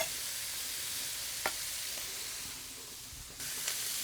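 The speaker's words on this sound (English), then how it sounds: "like to hear that sizzle" Chicken pieces and sausage sizzle in a pot for gumbo, a steady broad hiss of frying with a few soft clinks and pops of stirring, close and fairly quiet, no talking over it.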